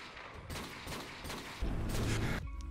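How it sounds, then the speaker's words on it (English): Loud gunfire in Call of Duty: Modern Warfare 2: a Desert Eagle pistol shot and a heavier sniper rifle blast, sharp and booming, with mechanical clicks between the shots. "the first gunshot is the sound from a Desert Eagle in the game"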